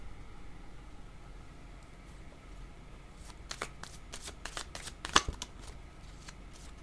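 A deck of oracle cards is shuffled close by in a quiet room, with a run of quick, crisp riffling bursts in the second half and a sharper snap of cards near the end.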